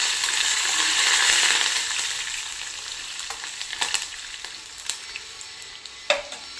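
Curry leaves sizzle in hot oil while being fried for daddojanam, a steady broad hiss with sharp crackles and pops near the end, fairly close and loud with no talking.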